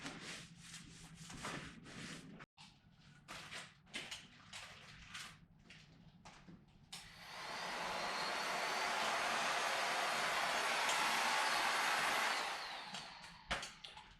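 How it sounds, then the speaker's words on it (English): A heat gun switches on and blows a steady, loud rushing stream of hot air for several seconds before cutting off, preceded by quieter handling and rubbing noises while preparing a DIY Kydex-style keel protector. "if you've never used one of these heat guns, basically they have three settings"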